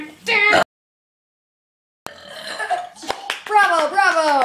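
A loud, deep burp rings out in a burping contest for loudest, then stops dead into a second of silence before children's voices, clapping and laughter rise.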